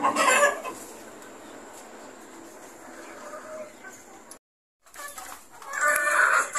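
Super Sweater Cross Red Kelso gamefowl roosters crow loudly near and at a distance, with a sudden break of silence before a second loud crow and some clucking at a gamefowl farm.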